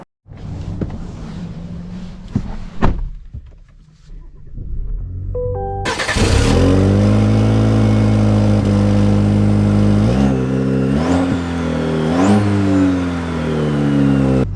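A 2024 Chevy Colorado Trail Boss pickup starts up, then its engine revs and pulls away, a loud steady drone with rising and falling pitch as it shifts through gears while driving.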